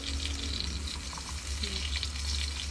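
Eggplant frying in plenty of hot oil in a small kitchen, a steady close sizzle and crackle throughout with faint background voices.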